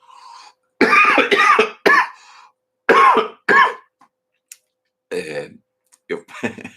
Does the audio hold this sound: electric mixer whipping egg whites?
no